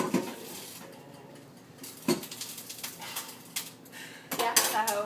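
A hot cooking pan is set down on a stove, giving a few clanks and clatters of metal cookware with light rattling, close and moderately loud, amid soft kitchen background noise.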